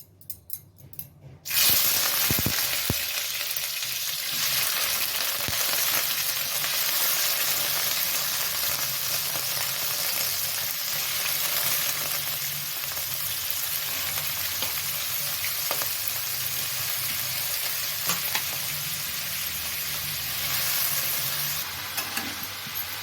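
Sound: cucumber pieces frying and sizzling in hot oil

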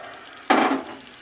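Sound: homemade apple vinegar poured into boiling chilli pickle

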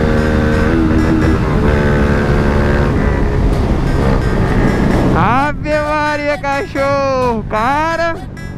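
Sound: Fiat Toro engine revving with Toro Performance exhaust

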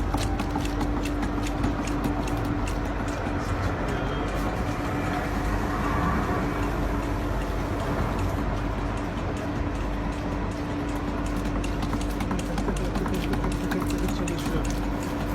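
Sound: water starting to flow from a homemade ram pump

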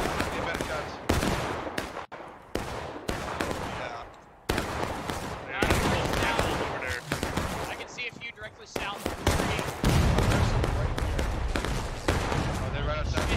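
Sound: musket volley fire in War of Rights video game

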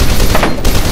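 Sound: gunfire in video game F.E.A.R. 2

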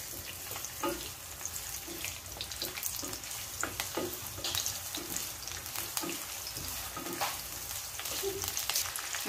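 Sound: onion sauteing in pan for humba

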